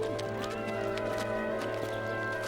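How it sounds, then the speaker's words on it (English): Horses at a crowded horse market shuffle and clop, with faint whinnies mixed into a busy hum of activity. "Horses for sale! Good horses here!"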